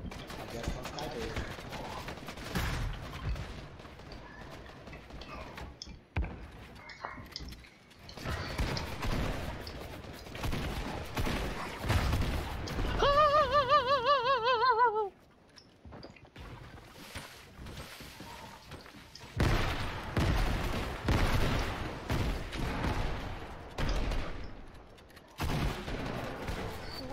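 Gunfire in a video game, with bursts of rapid shots and scattered single cracks coming in clusters, alongside a brief whirring chirp sequence midway and short gaps of near silence.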